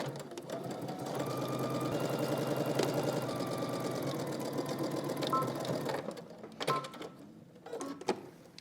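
A sewing machine stitches the long edge and bottom end of a fabric tie for a wrap dress, running steadily for about six seconds before stopping, followed by a few brief handling clicks and taps.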